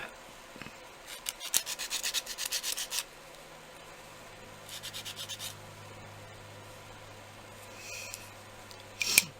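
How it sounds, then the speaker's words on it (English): Bursts of rapid scratchy rubbing from sanding the edges of a polymer clay jewelry piece come in short bouts separated by quiet stretches, close and fairly soft. "That bottom actually needed a bit more sanding."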